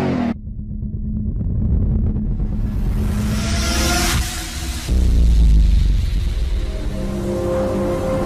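A Mitsubishi Xpander at an auction lot cranks and starts, the starter whirring briefly before the engine catches and settles into a steady idle rumble, with a louder surge partway through, close by and with no talking.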